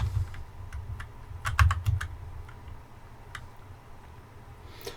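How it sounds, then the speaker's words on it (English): A mechanical keyboard clacks close by in quick, irregular bursts of sharp keystrokes, heaviest in the first two seconds, then sparser taps over a low steady hum from a farming simulator game. "I apologize if the sound of my keyboard is annoying. It is a mechanical keyboard, so that's why it's so noisy."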